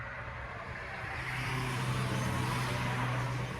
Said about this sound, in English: Here goes by a car.